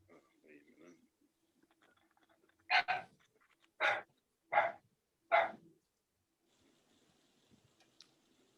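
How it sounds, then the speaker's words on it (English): A dog named as the household's female dog barks four times in a loose rhythm from another room near her door, each bark sharp and fairly loud, with faint background murmurs between. "Is that Walnut Barking"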